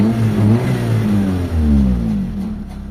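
Mitsubishi Lancer with a 4G15 engine, stock, previously idling high and unevenly, revs up and settles with a steady mid-pitched hum, loud and close, with no talk over it.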